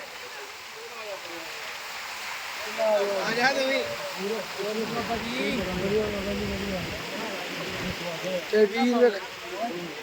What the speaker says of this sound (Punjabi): ਪਾਣੀ ਦੀ ਸਪੀਡ ਦਾ ਖੜਾਕ ਵੇਖੋ ਪਾਣੀ ਦਾ